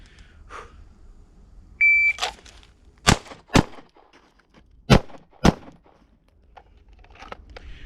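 Handgun shots ring out at a law enforcement qualification range, a few sharp reports in pairs spaced across several seconds, preceded by a short timer beep, with quiet gaps between.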